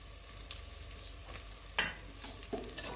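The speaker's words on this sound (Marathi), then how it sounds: "थोडासा कांदा फ्राय झाला" Onion frying in a pan for a paneer vegetable biryani, a low steady sizzle with a couple of sharp scrapes of a spoon stirring, close and quiet.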